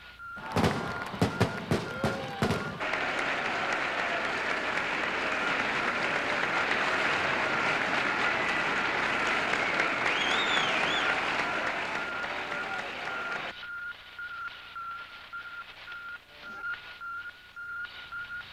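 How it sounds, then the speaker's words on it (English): Large joyful crowd applauding in Moscow's Red Square, a dense sustained roar of clapping and cheering that swells for about thirteen seconds, then cuts to a quieter hum with a steady tone, preceded by a few sharp thumps. "Joyful crowds assembled in Moscow's Red Square."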